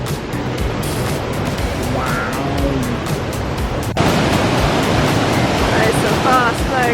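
Fast-flowing water of a waterfall in Dalat, Vietnam rushes as a loud, steady broadband roar throughout, with voices faintly under it.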